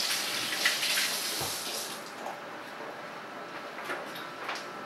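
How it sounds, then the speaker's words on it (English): Hands being washed under a running kitchen tap while chicken chili is prepared, a steady hiss of flowing water with faint splashing, moderately quiet and unaccompanied by talk. "Give my hands a quick wash."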